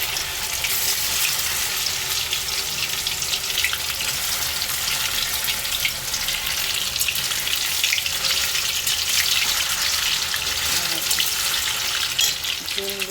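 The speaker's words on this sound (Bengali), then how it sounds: "তেলটা গরম হয়ে গেছে, এখন এই সোয়াবিনগুলো এর মধ্যে ছেড়ে দেবো।" Soybean chunks frying in hot oil, a continuous loud hiss and crackle of sizzling close by, steady throughout.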